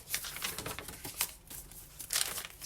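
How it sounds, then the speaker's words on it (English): Coffee-dyed paper crinkles and rustles as pages of a kitchen-themed recipe junk journal are handled, giving soft, uneven crackles with a few sharper crisp bursts close by and no speech. "Some more coffee dyed paper."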